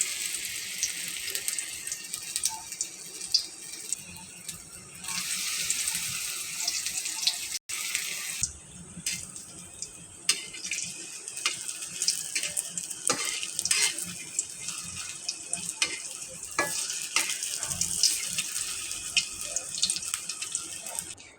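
Thankuni leaf fritters frying in hot oil in a kadai: a loud, bright continuous sizzle with stirring scrapes and brief drops in level, heard close without voices.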